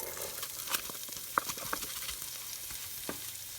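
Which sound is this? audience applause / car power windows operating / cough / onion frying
onion frying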